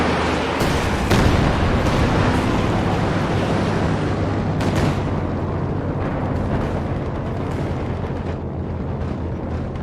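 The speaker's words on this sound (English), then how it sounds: "We got a huge barrage inbound." A heavy artillery barrage in Company of Heroes 2 multiplayer pounds without pause, with loud overlapping explosions and sharp blasts rumbling into a dense, roaring wall of sound.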